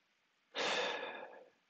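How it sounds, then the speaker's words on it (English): One slow, deep breath is drawn and released during a guided stretching session in a gym, a soft airy sigh swelling quickly and fading over about a second, close and alone. "taking deeper breaths in and out."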